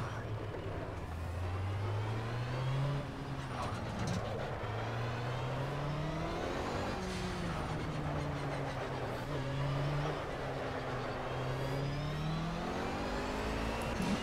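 A diesel car engine in the Project Cars racing game revs up and down repeatedly through gear changes, a continuous rising and falling drone heard alone without talk.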